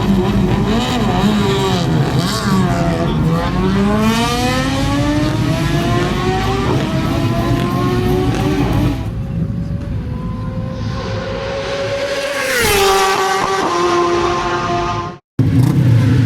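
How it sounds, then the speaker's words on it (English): A superbike pulls away at Isle of Man TT practice, its loud engine revving hard and climbing in pitch through successive gear changes. The close, continuous roar cuts out abruptly near the end. "10 seconds to go before he sets off on the superbike."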